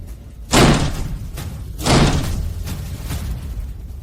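A locked door is forced in with repeated heavy blows: two loud, close slams about a second and a half apart, followed by softer thuds and a low rumble, with no voices.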